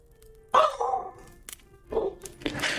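A dog barks indoors at moderate distance, several separate barks spaced over a couple of seconds against a quiet room.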